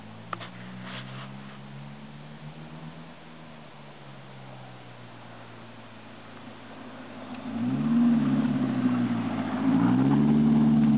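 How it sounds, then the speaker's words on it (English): A 1987 Toyota Celica drifting with no e-brake, its engine droning steadily and then revving harder with rising, sweeping pitch near the end, heard fairly close with no talk. "drifting in a 87 Celica with no e-brake"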